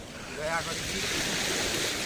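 Floodwater from the Kendua river rushes steadily past a bridge, a broad, constant roar with wind buffeting the microphone and a faint voice murmuring beneath it.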